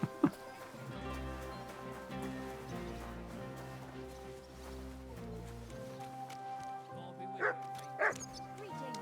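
Dog in the medieval video game Kingdom Come Deliverance 2 barking, two short sharp barks near the end over a sustained musical game score, with a person talking.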